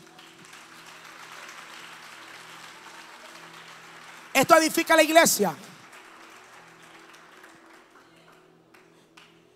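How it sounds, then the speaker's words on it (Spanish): Church congregation applause fills a Spanish-language service as a steady, diffuse wash, with a voice briefly rising over the middle before the clapping continues at a low level. "Dele un aplauso a esa muchacha"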